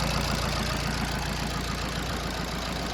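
A car engine idles smoothly just after starting on the first crank, a steady, even low rumble close by with no voices.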